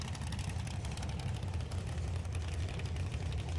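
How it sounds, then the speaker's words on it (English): A drag racing car's engine running in the burnout box at the STP Sportsman Nationals, a low, steady, rumbling drone heard from a distance with no voices. "I can hear the engine running. She's in the burnout box."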